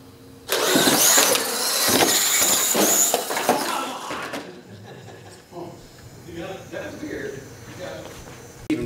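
An R/C monster truck engine at a sport mod drag race bursts into a loud, raspy whine that holds for a few seconds, then cuts back to lower rumbles and clatter, with people talking around it.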